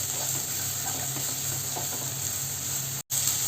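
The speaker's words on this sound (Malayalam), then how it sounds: "ഇതും കൂടി ചേർത്തിട്ട് നമുക്ക് നന്നായിട്ട് ഇതിനൊന്ന് ഇളക്കി യോജിപ്പിച്ച് കൊടുക്കാം." A green peas and egg masala with garam masala and pepper sizzles in a hot pan, a steady close hiss with faint stirring, broken by one brief dropout near the end.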